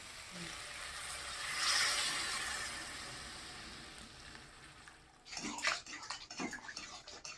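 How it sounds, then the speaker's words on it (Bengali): Water is poured into a sautéed pumpkin greens curry in a pan, starting as a rushing, swelling splash that fades. Sharper bursts of bubbling and clatter follow near the end. "সবজিটা আমার কষানো হয়ে গেছে, এখন জল দিয়ে দেবো।"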